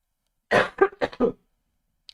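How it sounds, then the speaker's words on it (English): A few harsh coughs in a quick cluster, close to the microphone, followed by silence. "I'm gonna do my cough."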